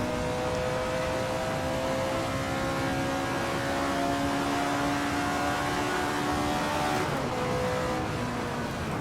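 An Alfa Romeo 33 Stradale races around Laguna Seca in a racing game. The engine holds a steady, loud drone with rising harmonic tones as it accelerates through the gears, then dips briefly near the end before climbing again.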